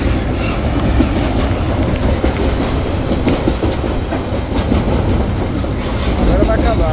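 A long train rolls past close by, a loud continuous rumble with rhythmic clickety-clack from wagon wheels that never lets up, with voices talking over it.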